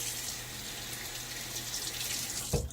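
Water streams steadily from a faucet into shaving lather in a sink, a close, continuous broadband hiss that runs unbroken and ends with a brief knock.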